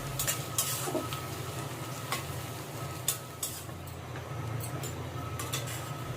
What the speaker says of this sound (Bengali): এবার ভালোভাবে নাড়াচাড়া করে পেঁয়াজটাকে আমি ভেজে নিচ্ছি